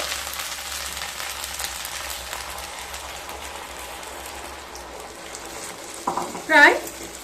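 Chilli chicken being stirred and cooked in a pan for a restaurant-style dish: a steady low sizzle of frying runs throughout, with a brief louder scrape or clatter of stirring near the end.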